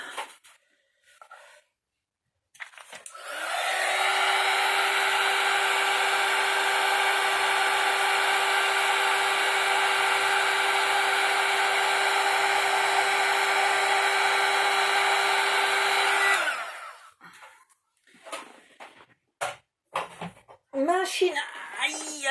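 A heat gun blows a loud, steady whoosh for about fourteen seconds while hot embossing on vellum, starting and stopping cleanly, with short bursts of speech before and after.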